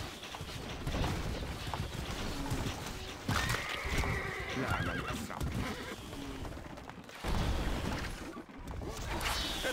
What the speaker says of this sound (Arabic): الحصان سريع، خيولنا سريعة